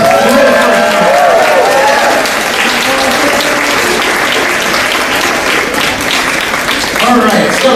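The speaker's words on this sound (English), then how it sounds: "let's give them another round of applause" An audience of parents gives a school band another round of applause at a 4th and 5th grade performance. The clapping is loud and dense, filling the whole stretch with crowd murmur mixed in.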